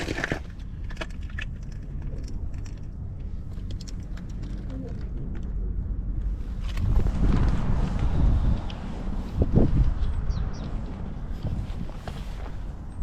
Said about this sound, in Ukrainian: Зараз вітер, вибачайте